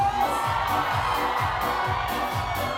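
One side of a club crowd at a Piękni i Młodzi show at Blue Star in Sułków shouts and cheers loudly and steadily over a thumping beat.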